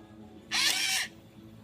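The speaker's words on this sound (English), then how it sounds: "Are you drilling your Play-Doh?" A toy drill whirs into Play-Doh in one burst lasting about half a second, a loud close whine over a quiet indoor background.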